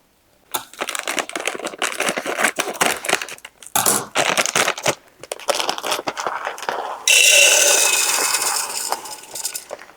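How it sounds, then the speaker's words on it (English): A small food processor cup grinds sunflower seeds toward butter, a loud, close crushing and rattling in uneven bursts with brief pauses, ending in a steadier high whir of the motor. "So for the sunflower seeds, I'm going to use this smaller cup in here to mix that up."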